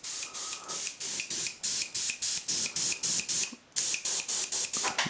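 An airbrush with no paint attached, run from a compressor at about 25 psi, sprays rapid, regular bursts of hissing air in a steady pulsing rhythm, close and fairly loud, with one brief pause midway.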